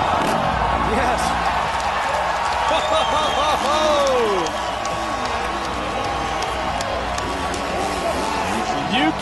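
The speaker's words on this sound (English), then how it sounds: "You can hear the crowd." A large stadium crowd roars and cheers during a best trick motocross contest at the 2011 Monster Energy Cup, a broad sustained din under an announcer's excited commentary.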